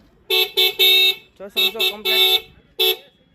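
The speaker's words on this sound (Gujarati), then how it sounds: "વગાડો ભાઈ હોર્ન" Two newly fitted vehicle horns blare in a series of loud, close honks, short and long blasts in an irregular rhythm, with a brief pause and a murmur of voice between groups.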